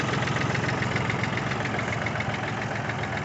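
A 1980 Kubota tractor's mechanically fuel-injected diesel engine idles steadily and loudly nearby, a dense, even chugging rumble with no voices over it.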